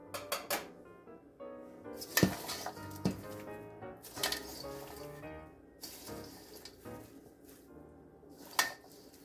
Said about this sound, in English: So now we're just gonna dump in all of these ingredients over here.